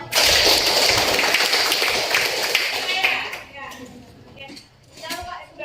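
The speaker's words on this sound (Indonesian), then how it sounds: "silakan boleh tepuk tangan dulu" A class claps hands in a classroom lesson, a loud burst of clapping that fades after a few seconds, leaving scattered taps and murmuring voices as the room settles.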